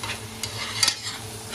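Meat frying in a pan, giving a steady low sizzle close by with a couple of brief sharp pops and crackles partway through.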